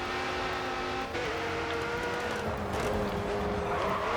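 Race car engine in the video game GRID 2, a steady, loud mechanical drone with a shifting pitch as the car drives, some tire noise mixed in, with no talking.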